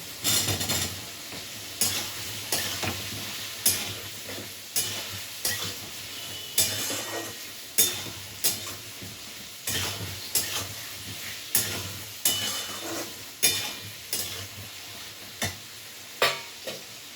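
Potatoes fry in a salted pan under a continuous sizzle, while a utensil scrapes through them in a steady rhythm about once a second; close and moderately loud, with no talking.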